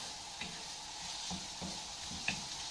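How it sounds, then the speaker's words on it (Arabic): Grated onion frying in a pan, with a steady soft sizzle under a few scraping strokes of a spoon stirring it, fairly close and moderately quiet. "انزل بالبصله المبشوره نقلبها كده"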